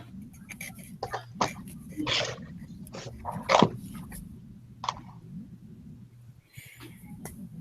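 A dog gives several short barks and throaty huffs indoors, loud and close, spread irregularly over a low steady hum, with no one talking.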